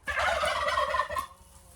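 A turkey lets out a single loud, close gobble, a rapid rattling burst that lasts about a second before trailing off.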